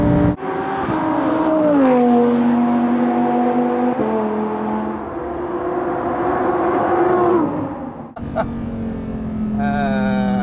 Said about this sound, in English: And the sound of the engine is fantastic.